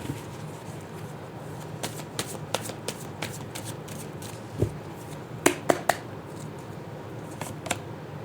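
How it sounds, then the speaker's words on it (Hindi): Tarot cards shuffled and drawn by hand at close range, with soft riffling under a steady hiss and a series of crisp card snaps and flicks as individual cards are pulled from the deck. "और अब मैं कार्ड्स निकालने वाली हूँ।"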